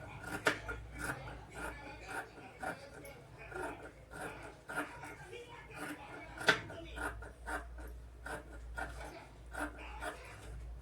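Scissors snip through blouse fabric in a steady series of short, crisp cuts, close by, with a voice talking over them.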